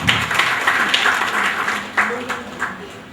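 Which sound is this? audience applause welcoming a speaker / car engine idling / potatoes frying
audience applause welcoming a speaker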